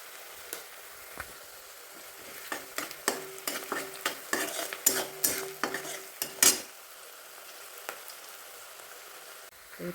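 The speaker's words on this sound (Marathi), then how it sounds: "त्याच्यात मीठ घालूया थोडं म्हणजे कांदा पटकीनं भाजेल" Onion frying with salt in a pan for a dhaba-style dal tadka, heard as a soft sizzle with a run of clinking, scraping stirs through the middle and a quieter close.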